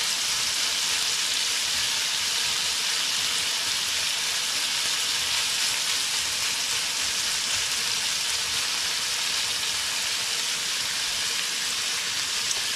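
Bacon sizzles and crackles steadily in a pan, cooking for mac and cheese, a continuous bright hiss with no talk over it.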